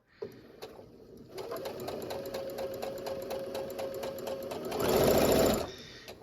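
A sewing machine stitches a straight seam on a fabric table runner, running a steady, close mechanical whir of rapid stitches that briefly speeds up louder near the end before stopping.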